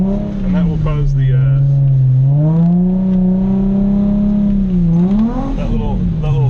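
A Nissan 350Z drifts sideways with its engine revving hard and close. The pitch swells and dips as the throttle is worked, and a voice talks over the engine.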